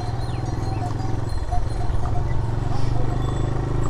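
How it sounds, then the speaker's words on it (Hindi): Mules and horses on a mountain road near Sonprayag, with rhythmic hoof clip-clop over a steady engine-like drone, close by, while a person speaks over it. "खच्चर है, खच्चर घोड़े हैं, घोड़े।"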